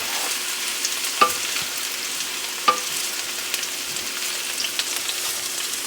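Ginger and garlic dropped into hot lard fry with a loud, steady, close hiss and crackle, broken by a couple of sharp pops or clicks of a utensil; no speech.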